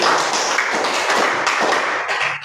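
Children in a classroom clap their hands together in a dense, continuous burst of applause lasting a couple of seconds, close and fairly loud.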